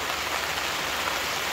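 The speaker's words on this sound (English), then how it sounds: "It is raining quite a bit." Steady, dense rain patters on a leaking tent at a family campsite in Wales, a continuous close hiss of drops on fabric with no pauses and no voices.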